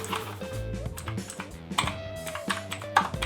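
Someone handles and types on a new, heavy, quality-feeling computer keyboard during an unboxing, producing a close, rapid, uneven patter of key clicks with a few louder taps over a faint background hum.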